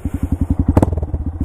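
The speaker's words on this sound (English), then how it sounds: "the exhaust is actually bouncing off the number plate because of the crash protection" Exhaust of a Honda Grom motorcycle fitted with crash protection, a loud rapid rhythmic putter at close range with a brief rattling flap of the number plate midway through.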